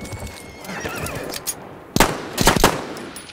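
A horse neighs amid sounds of the video game Battlefield 1 on the Suez map, followed by a couple of sharp bursts like gunfire, loud and close.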